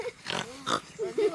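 A pig grunts and snorts in a few short bursts close by, with human voices mixed in around the calls.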